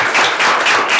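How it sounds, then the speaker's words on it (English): Short burst of audience applause at a legislative Cracker Barrel forum, dense steady clapping from many hands, loud and close, with no voices. "He deserves a round of applause for that."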